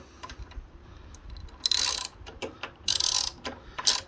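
Ratchet clicks from a 14mm socket wrench loosening bolts on a 2022 Kawasaki Ninja 650, coming in short bursts of rapid clicking with brief pauses between, close and fairly clear, with no talking.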